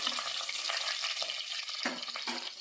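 Whole spices frying in a pan for coconut rice give a steady, close, dense sizzle with a few stirring scrapes. There is no talk.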